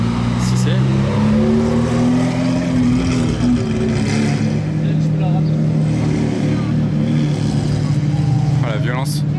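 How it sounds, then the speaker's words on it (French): A Lamborghini Aventador with a modified exhaust roars past on a street in Monaco, its loud engine note rising and sweeping by nearby, while people talk over the steady car noise. "l'Aventador, elle n'a pas l'air d'origine vu le bruit que j'entends arriver là"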